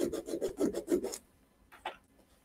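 Rapid raspy scraping as a silver item's surface is gouged for acid testing, about seven quick close strokes in a burst, then a pause and one fainter short scrape.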